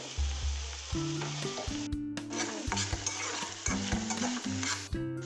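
Bitter gourd cooking with jaggery in a pan is stirred steadily, giving a continuous sizzle with scraping strokes over low background music.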